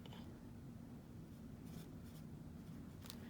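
Sharpie marker writing on small sticky notes, a faint, close scratchy squeak of felt tip on paper in a few short strokes over a quiet background hum.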